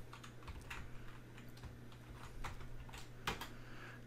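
Typing a command on a Color Computer keyboard: quiet, irregular key clicks tapped in quick runs over a faint steady hum, with no talk.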